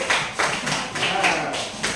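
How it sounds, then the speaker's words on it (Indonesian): A classroom group applauds a student team in brief, uneven rounds of clapping that swell and fade several times, fairly close and loud. "Tepuk tangan untuk kelompok 3."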